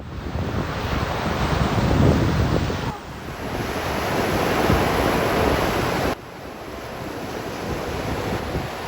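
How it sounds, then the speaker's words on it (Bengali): Sea waves on Inani beach at Cox's Bazar, a continuous loud rushing surf mixed with heavy wind buffeting the microphone, with no talking. "নিজের মতো করে অনবরত শুনতে পারেন সমুদ্রের বিরামহীন শব্দ"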